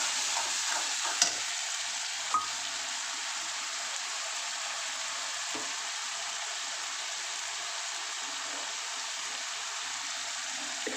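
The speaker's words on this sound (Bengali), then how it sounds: "এবার আমি আদা রসুন পেস্ট আর টমেটো পেস্টটা একসাথে ঢেলে দিলাম।" Ginger-garlic paste and tomato paste sizzle in a pan for a Bengali aar fish curry. A soft, steady frying hiss runs throughout, with a couple of sharp clinks and stirring scrapes near the start. Nobody speaks.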